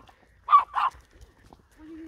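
Small Yorkshire terrier barking indoors, two quick sharp yaps close by, followed by a faint whine.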